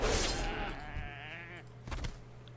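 Goats bleating in World of Warcraft: Legion, a wavering, drawn-out bleat up front followed by a shorter cry near the end over steady game background noise.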